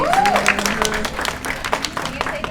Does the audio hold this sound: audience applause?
yes